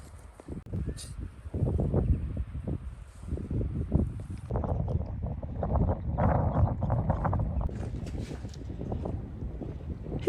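Strong wind gusting across a secluded island beach with blowing grasses, a rough, buffeting rush against the microphone that swells and eases unevenly throughout.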